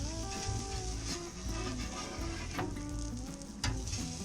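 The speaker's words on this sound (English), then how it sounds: "We're going to give our burger patties a flip on the grill." Chicken burger patties sizzle and fry steadily on a Weber Q gas grill as they are flipped, a continuous close crackle with a few brief scraping clicks from the turn.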